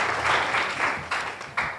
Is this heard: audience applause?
yes